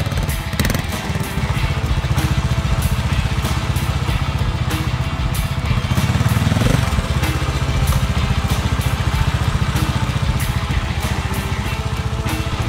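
A trials dirt bike engine runs loud and steady throughout, with a low mid-pitched motorcycle drone that swells briefly as the rider works over obstacles; no talking.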